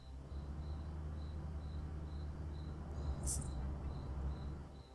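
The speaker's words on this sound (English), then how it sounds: "It's just the crickets." Crickets chirp in a quiet night scene of the Cities: Skylines city-building game, a soft regular pulsing trill over a low ambient hum, faint and steady with no one speaking.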